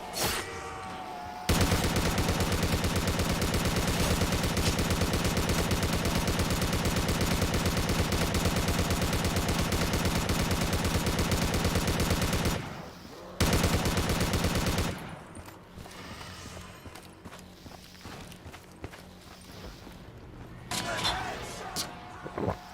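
Sustained rapid gunfire from an unlimited-ammo weapon in a COD custom zombies game roars loud and continuous for several seconds, then drops away to quieter game sounds with a voice talking and brief bursts near the end.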